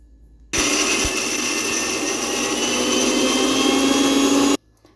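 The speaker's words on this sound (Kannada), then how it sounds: "ರೋಸ್ಟ್ ಮಾಡ್ಕೊಂಡಿರೋ ಸೊಪ್ಪು ಎಲ್ಲನೂ ಹಾಕಿ ನುಣ್ಣಗೆ ರುಬ್ಕೋಬೇಕು." A mixer grinder runs continuously for about four seconds, grinding roasted curry leaves to a fine paste for tambuli. It is a loud, steady whir, starting abruptly and stopping abruptly, with no talking.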